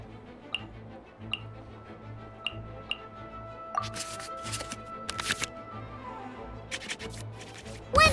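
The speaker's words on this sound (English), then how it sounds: "we can select any number of cards in our hand to shuffle back into the draw pile" Card shuffling in the Genshin Impact card game: several soft, evenly spaced ticks, then clustered crisp riffling bursts of cards, quiet and close.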